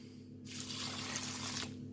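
Chicken stock pours steadily into a pan for turkey sandwich filling, a continuous close splashing trickle lasting over a second, with no talking.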